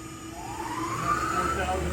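A Tormach Personal CNC 100 Series 3 mill, 2013 model, spins its spindle at 2,000 RPM, giving a steady whine that rises slightly in pitch over a constant mechanical hum.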